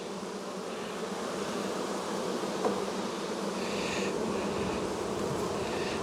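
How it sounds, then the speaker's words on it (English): Honey bees buzz densely around a brood frame lifted from a strong hive, a loud continuous drone that stays steady throughout with no speech. "I'm going to shake them off and put this one aside."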